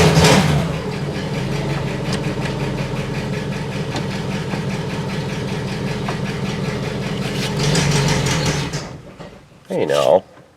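The engine of a rusty Buick LeSabre runs at a steady idle close by, swelling slightly near the end before cutting off. A voice speaks over the engine noise.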